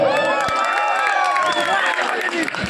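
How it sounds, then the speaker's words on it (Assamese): Audience at an Assamese comedy show applauding and cheering, a steady wash of clapping and crowd voices at fairly loud level throughout, with shouts mixed in. "আপোনালোকে দিগাংগনাৰ কাৰণে এটা হাত চাপৰি দিয়ক"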